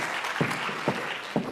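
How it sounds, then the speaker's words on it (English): Conference audience applauding a speaker, a dense, steady wash of clapping that stays fairly close and even throughout, with a few soft thumps. "Give her a big applause, please."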